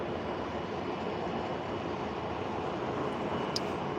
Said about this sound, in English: the A350-1000, heading back to Tokyo, Haneda. Taking off on the south side